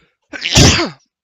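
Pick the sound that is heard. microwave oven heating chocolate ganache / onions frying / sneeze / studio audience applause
sneeze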